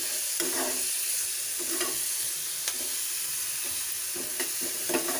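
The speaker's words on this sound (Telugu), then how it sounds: "ఇది కొంచెం పచ్చి వాసన పోయే వరకు ఫ్రై చేసుకోవాలి" Garlic, ginger and green chili paste frying with onions in a pan for paneer bhurji, a soft steady sizzle broken by about six spoon scrapes of stirring, with no voices.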